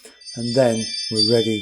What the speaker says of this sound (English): Sorry, that's our doorbell.